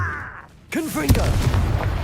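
A Confringo fire spell explodes in Hogwarts Legacy during a fight, landing as a sudden loud burst after a quiet moment, followed by a booming, crackling rumble that keeps going, with a voice briefly mixed in.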